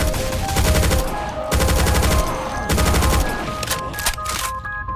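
Chaingunner machine-gun fire in Doom with the Project Brutality mod, in Final Doom TNT: Evilution MAP20, loud rapid bursts of gunfire repeating in several long volleys with only brief breaks.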